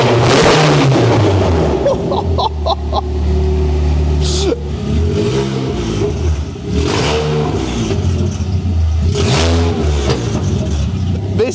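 A modified 200 bhp Ford Fusion ST engine revs hard and aggressively, with loud rising and falling bursts and crackles, heard close over continuous engine drone while people talk.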